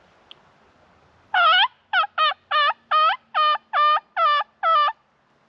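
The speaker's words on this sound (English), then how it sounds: "That turkey wasn't having my mating call." A wild turkey gobbles out in the open, a loud close burst of rapid rattling notes repeated about eight times in quick succession, with quiet background between.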